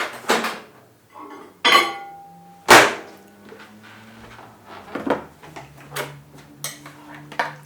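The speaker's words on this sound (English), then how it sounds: "Now I'll fetch this out of the microwave." A dish taken out of a microwave in a home kitchen while baking a chocolate pumpkin pie, with sharp clanks and knocks from the door and dish followed by softer rattles, close and fairly loud.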